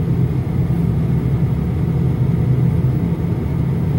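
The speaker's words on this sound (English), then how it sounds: "It's a big old diesel motor in there." A big diesel motor in a vehicle on a hill during a driving lesson rumbles low and steady, a constant loud near drone with no pauses or voices.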